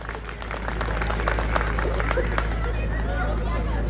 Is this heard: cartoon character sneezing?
no